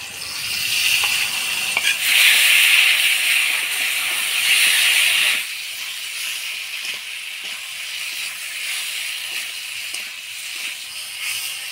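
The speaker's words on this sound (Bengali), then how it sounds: "অল্প মশলার বাটি ধোয়া জল দিয়ে ভালো করে কষায় নিব মশলাটা" Ground spice paste of ginger, garlic, onion, coriander, cumin and chilli frying in a pan, a loud steady sizzling hiss that drops to a softer crackle halfway through, with no talking.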